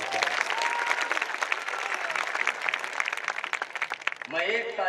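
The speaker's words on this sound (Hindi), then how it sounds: "जोरदार एक बार ताली हो जाएगा" A crowd at a political rally applauds in a dense, sustained wave of clapping, and a voice breaks in over the sound just before the end.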